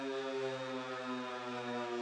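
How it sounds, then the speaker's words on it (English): A wartime air raid siren sounds one steady, sustained wail from start to finish, loud and continuous with no talk over it. "air raid sirens blared, forcing everyone into a shelter"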